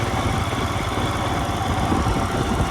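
A motorcycle ridden slowly along a rural hill route, its engine a steady close low drone with rough vibration and wind, unbroken and without talk.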